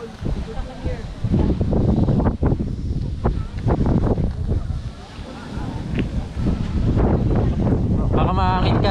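Strong wind buffets the microphone during a motorcycle ride, a loud constant rumble with gusty bursts, while riders talk over it.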